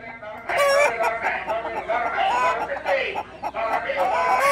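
A chatty hen at a small-animal auction clucks and chatters in a near, continuous run of varied calls, rising and falling without pause.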